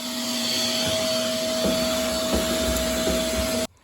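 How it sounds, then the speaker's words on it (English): Steady droning roar of a vacuum cleaner running close by inside a VG Valiant Hardtop car body during paint prep, with a constant whine, cutting off abruptly near the end. "I'm going to give this another quick vacuum"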